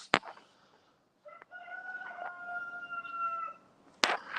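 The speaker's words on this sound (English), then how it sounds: "Y'all heard that rooster?" A rooster crows once in a long, clear, harmonic call lasting about two seconds, fairly close, bracketed by brief sharp knocks at the start and end, with no talk over it.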